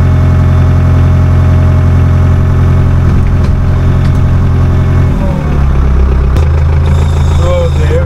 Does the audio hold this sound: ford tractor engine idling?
yes